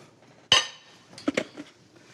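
Raw shrimp dropped into a kitchen bowl, a sharp clink of contact followed by a few softer knocks and shuffles, close and quiet otherwise.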